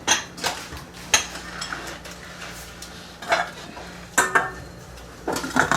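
A cooking pot gets its lid put on while Filipino coconut fish (sinanglay na tilapia) simmers, giving several sharp metallic clanks and clatters spaced apart over a quiet kitchen background.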